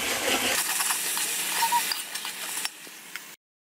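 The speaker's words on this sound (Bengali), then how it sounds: "এখন আমি পেঁয়াজ এবং রসুন কুচিটাকে ভালো করে পাঁচফোড়নের সাথে ভেজে বাদামি কালার করে ভেজে নেব।" Chopped onion and garlic fry with panch phoron in hot oil, making a steady close sizzle with a few light stirring clinks before the sound cuts off abruptly.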